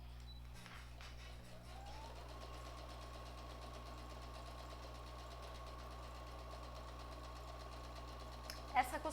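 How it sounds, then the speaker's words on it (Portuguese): A sewing machine runs continuously while stitching a felt wreath, a steady mechanical hum that lasts the whole stretch, with a few small clicks near the end. "Vamos retomar a nossa costura."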